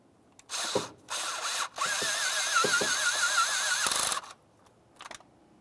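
A power tool snugs an intake bolt on a Nissan Titan during a starter replacement, firing in short whirring bursts and then one longer sustained run with a wavering pitch, close and fairly loud against quiet gaps.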